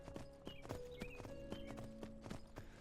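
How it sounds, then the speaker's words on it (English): Donkey hooves walking in Skyrim with the Enderal mod, a steady clip-clop of evenly spaced, close hoofbeats over faint ambient tones. "Nothing like a serene walk with Lydia the donkey."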